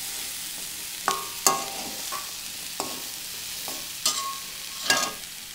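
Onion and grated coconut being stirred in a pan for chundal, with a soft background sizzle and several distinct spoon scrapes and knocks against the pan at irregular intervals, no talking.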